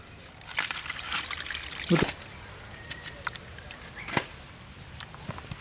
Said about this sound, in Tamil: இந்தளவுக்கு தண்ணி சேர்த்து நல்லா இலக்கமாக கலந்துட்டேன்